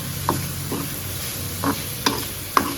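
Prawns seasoned with salt and pepper are stirred in a pan over a low, steady sizzle, with four or five distinct spoon scrapes and knocks spaced through the frying.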